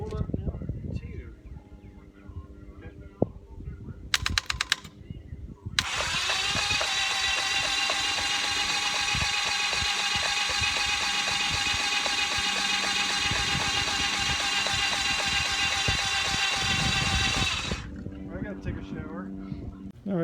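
An old Toyota engine, pulled from a field and secured on a lift, is connected to a battery and cranked, then settles into a steady, loud running drone for about twelve seconds before cutting off, with shop clatter around it.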